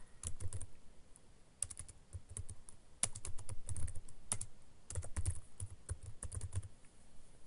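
Computer keyboard typing in bursts of quick, close keystrokes with short pauses, steady and moderately loud, no voices.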